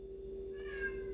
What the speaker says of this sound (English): You heard my cat?